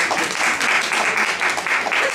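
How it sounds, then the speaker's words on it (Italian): An audience at an arts award ceremony breaks into steady, full applause, a dense rush of clapping that stays loud throughout. "Grazie, un applauso."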